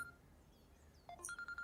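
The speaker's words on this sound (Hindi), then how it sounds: "मेरा फोन बज रहा है" A faint electronic phone ringtone chirps in a quick repeating pattern of short tones, quiet and somewhat distant against low background hum.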